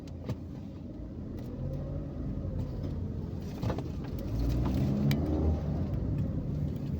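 Cars pass steadily on a busy road, a continuous low rumble of engines and tyres that swells as one vehicle draws near and goes by, heard from inside a moving car with no talk.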